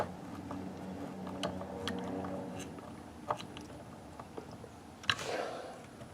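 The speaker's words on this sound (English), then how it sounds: "Now I gotta be careful not to run these screws so deep that they come through the back." Screws are driven into a guitar body during a partscaster build, producing faint ratcheting, grinding clicks with a few sharper snaps, quiet and close with no speech.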